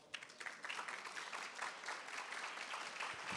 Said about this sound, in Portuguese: Uma salva de palmas para o Ricardo, então.